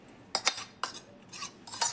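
A dish being taken out and handled in a kitchen while preparing a karela recipe gives four or five quick clinking, rattling knocks, close by, with no one speaking.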